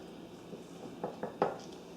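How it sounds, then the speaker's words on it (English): Flour being stirred into whole wheat pizza dough with a wooden spoon in a bowl, heard as a few soft knocks and scrapes against the bowl, quiet and close. "add it a little bit at a time. And stir it with a wooden spoon"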